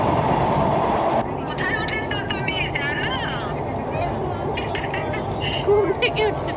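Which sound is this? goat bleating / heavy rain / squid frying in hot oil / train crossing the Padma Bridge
train crossing the Padma Bridge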